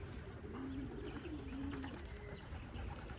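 Racing pigeons coo close by in soft, low, wavering calls that repeat over a steady background hum. No one speaks.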